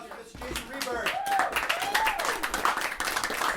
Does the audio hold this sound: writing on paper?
no